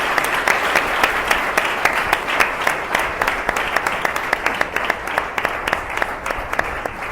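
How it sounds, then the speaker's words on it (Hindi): A church congregation applauding for Jesus, a dense, steady burst of many hands clapping together in a hall, loud and sustained throughout. "एक जोरदार ताली प्रभु यीशु के लिए"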